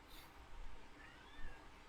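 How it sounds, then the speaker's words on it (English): A cat meowing quietly and at a distance, a couple of soft, drawn-out rising calls over a steady room hiss. "What the cat? Meow. Meow. Meow."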